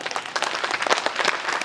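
Audience applause at a kavi sammelan poetry gathering, a dense burst of many hands clapping together, steady and fairly close, filling the whole moment with no voices over it.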